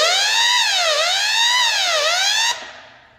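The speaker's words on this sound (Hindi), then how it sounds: "तो यहाँ पे ऐसे सायरन बजना शुरू हो जाएगा, छोड़ देंगे तो बंद हो जाएगा।" An electronic fire alarm siren sounds while the fire button on a fire-fighting installation panel is held down during a mock drill. It gives a loud, close, steady rising-and-falling wail over several cycles, then cuts off abruptly when the button is released.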